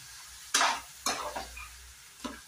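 Half a kilo of chicken goes into frying masala in a pan and is stirred, giving several close bursts of sizzling and scraping, with quieter frying between them.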